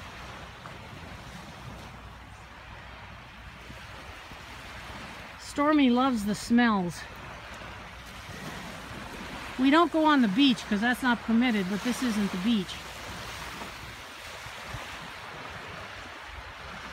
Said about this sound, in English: it's very rare for me to hear the waves on the shoreline the week of Christmas